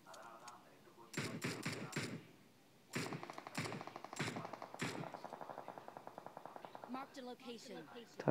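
Rapid gunfire in the battle-royale game PUBG: bursts of automatic shots in quick clusters, then a longer steady string of evenly spaced shots, fairly close, with a player talking over parts of it.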